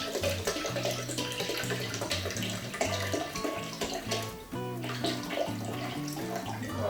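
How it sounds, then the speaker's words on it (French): Water, about 500 ml, pours into a vessel with salt to make brine for lacto-fermented red cabbage, a steady continuous splash beneath music. "Et je vais mettre 500 ml d'eau."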